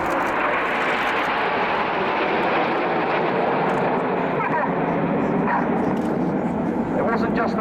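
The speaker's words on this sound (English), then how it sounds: "This is Spitfire." A Spitfire fighter plane flying past at the RIAT airshow as a steady, broad propeller-engine roar. The roar holds loud and even for the whole stretch, with a faint rise and fall as the plane passes.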